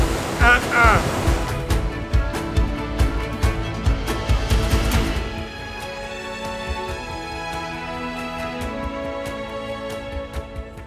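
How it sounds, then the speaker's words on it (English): Loud surf from large wind-driven waves crashes and churns close by on a Lake Superior rocky beach for several seconds, then eases to a softer rolling wash with wind buffeting the microphone. "The wind has just made these waves huge"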